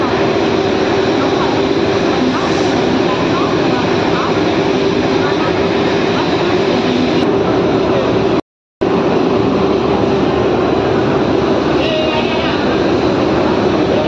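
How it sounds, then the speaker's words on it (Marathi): Loud, unbroken rumble of a train pulling into a platform, steady throughout apart from a brief cut-out, with indistinct voices underneath. "मित्रांनो ट्रेन आले"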